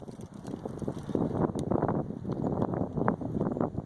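Strong wind gusting over open water during a fishing trip from a boat, a loud rumbling buffeting roar on the microphone that rises and falls throughout, with no speech.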